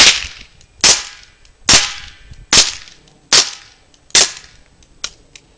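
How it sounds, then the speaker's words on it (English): Gun firing homemade wax practice bullets outdoors, seven sharp cracking shots at a steady pace of about one every 0.8 seconds, each loud and close with a quick decay. "I wanna do some actual aiming and shooting"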